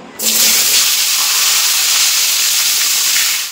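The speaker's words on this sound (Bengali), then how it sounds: "এখন এই কুমড়োগুলো দিয়ে দেবো।" Pumpkin pieces for a Bengali fish curry hit hot oil with a sudden loud, steady sizzling hiss that holds nearly unbroken until the end, with no talking.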